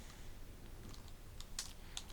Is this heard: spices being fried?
no